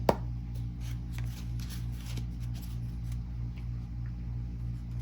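Tarot cards are shuffled by hand in a quiet room, giving soft, steady riffling and shuffling with one sharp tap at the start, over a low background hum.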